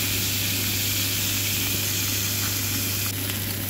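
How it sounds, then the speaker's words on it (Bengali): A bangkor fish head fries in hot oil, giving a steady, close hiss and sizzle over a low hum, with no talking. "প্রথমে মুড়োটা দিয়েছি কারণ ভালোভাবে মুড়োটাকে তেল দিয়ে"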